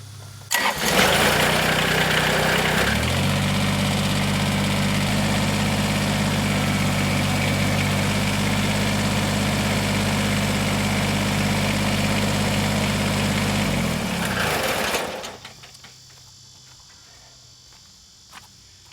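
A Kubota BX2370 compact tractor cranks and fires up, then settles into a steady, loud diesel idle lasting about fifteen seconds before being shut off, leaving quiet outdoor background with insects faintly audible.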